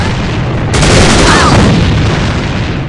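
A grenade explosion in the shooter game AVA bursts as a loud, broad blast that holds steady for a couple of seconds amid dense battlefield noise.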